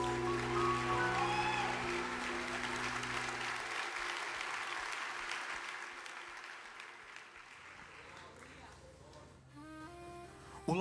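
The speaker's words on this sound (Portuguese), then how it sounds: "Aplauda o nome de Jesus." A church congregation claps together at an Easter service, loud sustained applause that gradually thins and fades, with voices mixed in.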